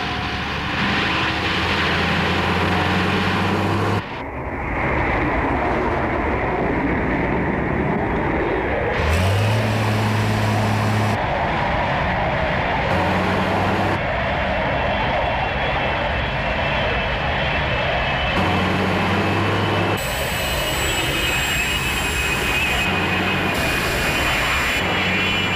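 Fireflash atomic airliner from the Thunderbirds puppet series roaring toward the runway threshold on landing approach, a loud continuous jet engine drone with shifting tone and abrupt cuts between shots.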